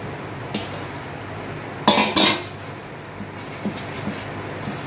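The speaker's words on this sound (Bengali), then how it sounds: "ময়দাটাকে ভালো করে ফেটিয়ে নিচ্ছি" Flour and water batter for malpua beaten by hand in a bowl: a few sharp utensil clacks and scrapes against the bowl, including two louder bursts near the middle, over a quiet background.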